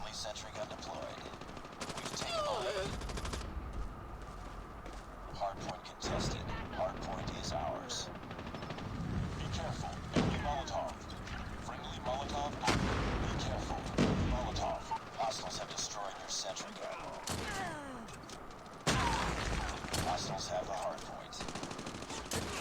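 Kilo Bolt-Action rifle fire in the mobile shooter COD Mobile rings out in sharp repeated reports amid dense surrounding battle gunfire, steady and fairly loud across the scene, with a voice heard briefly.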